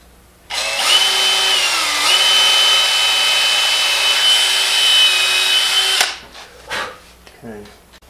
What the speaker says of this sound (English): now I'm gonna go around and drill me some holes